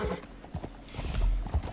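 Horse hooves clip-clop steadily in the Red Dead Redemption video game, with loud, close, rhythmic hoof strikes over a busy background of game ambience and effects.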